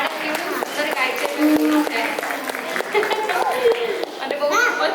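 An audience at a Gujarati community Diwali cultural performance in a hall in Garching applauds children, the clapping partly buried under children's voices and chatter close by.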